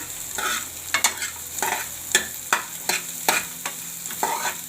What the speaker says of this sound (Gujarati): એને સરસ આપણે તેલમાં સડવા દેવાના છે.